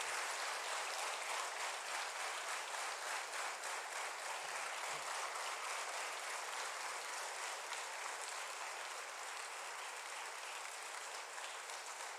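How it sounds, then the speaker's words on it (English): An audience at a formal ceremony applauds after a minister is welcomed with a memento; thick, continuous clapping from a big crowd rolls on steadily for about twelve seconds, heard from some distance and fairly soft, with no talking. "when I was hearing this applause"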